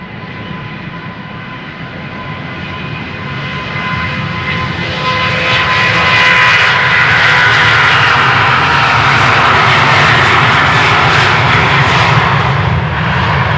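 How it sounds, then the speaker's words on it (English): A 12-year-old Transavia Boeing 737-800 takes off at Amsterdam Schiphol, its jet engines building from a steady roar to a louder, harsher thrust that holds near and strong through the end, with no voices. "So this is Transavia flight 5641 outbound to La Palma, 737-800"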